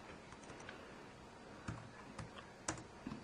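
A handful of soft, scattered keystrokes on an Inateck wireless Bluetooth 3.0 ultra slim keyboard, quiet and close, with light clicks spaced out over a faint background hiss.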